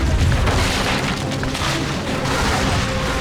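Artillery strikes pound the city of Stalingrad in the game Call of Duty: Finest Hour, producing loud, deep, rolling booms that rumble on without a break.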